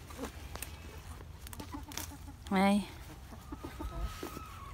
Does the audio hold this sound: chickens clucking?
yes